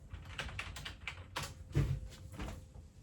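Computer keyboard typed on in a short burst of quick, light clicks, close and faint over a low background hum, ending with a slightly heavier keypress.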